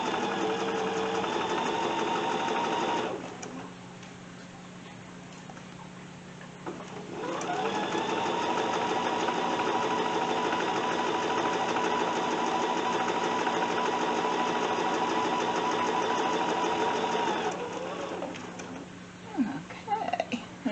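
A sewing machine runs a quarter-inch seam along the presser foot edge, a close, steady mechanical whir that pauses briefly in the middle, then resumes for a long stretch before slowing with a few clicks.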